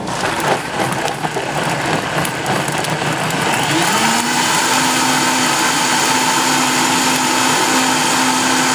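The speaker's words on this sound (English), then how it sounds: "we're going to just start blending this" A kitchen blender grinding spices for a sour orange vinaigrette, starting with choppy rough churning, then settling into a loud, steady high whir that runs continuously to the end.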